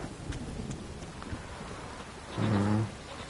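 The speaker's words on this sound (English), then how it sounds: "The storm, damn it." A storm in the video game Witcher 3 brings steady rain hiss with a short, heavy rumble of thunder rising near the end, moderately loud and without talk.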